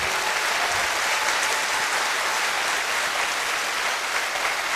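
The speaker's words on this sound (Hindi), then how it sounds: "सॉरी, ये तालियां बहुत नहीं है मेरी मां के लिए।" Steady, dense applause from a large crowd at a network marketing motivational seminar, continuous and loud throughout with no gaps.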